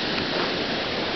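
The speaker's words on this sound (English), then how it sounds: "First set of waterfalls." A waterfall along an icy winter trail gives a continuous, dense roar of rushing water, loud and steady throughout with no talking.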